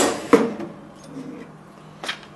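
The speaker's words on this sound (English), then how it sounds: "And then we're going to put our cork in." A corking machine presses a champagne cork into a wine bottle, giving a sharp mechanical thunk, a short rustling tail, then a second softer clack.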